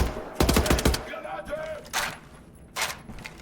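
Gunfire from the video game Wolfenstein The New Order: a rapid burst of loud shots early on, followed by a few separate bangs and shots amid a busy battle ambience.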